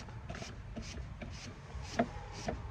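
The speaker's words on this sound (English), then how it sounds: "Sanding sponge works really good for getting that copper to shine." Steady abrasive scrubbing of a sanding sponge on copper pipe, rhythmic back-and-forth strokes, close up, with a few brighter scrapes toward the end.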